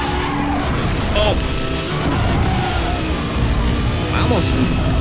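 A car slamming into a Carrera GT in Need for Speed Hot Pursuit multiplayer: loud metallic crash and thwack amid steady engine roar, with game noise running throughout and a second impact later.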